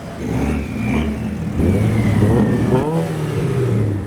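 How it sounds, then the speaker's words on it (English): Cars pulling into a busy car meet, with an Evo, a Ford StreetKa, a 350Z convertible and a Hamann BMW X6 among them. Engines rev and whir steadily for several seconds as traffic rolls in, close and fairly loud, with no talk. "So there is quite a lot of traffic, cars trying to come in."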